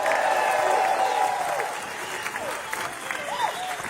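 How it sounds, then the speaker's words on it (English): A crowd at an outdoor reparations rally applauds and cheers, with dense clapping that starts strong and thins out over a few seconds. A few whistles and scattered shouts come through near the end. "give yourselves a round of applause"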